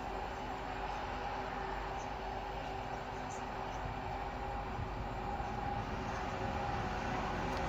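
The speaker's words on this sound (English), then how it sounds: "And another freight train headed by 66." A freight train hauled by a Class 66 diesel locomotive rolls through a Manchester station as a steady, distant, fairly faint rumble and wash of wagons that holds at an even level throughout.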